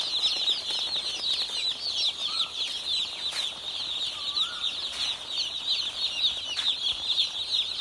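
Broiler chickens clucking softly in a flock against a constant high insect-like hum, with occasional bursts of flapping wings nearby.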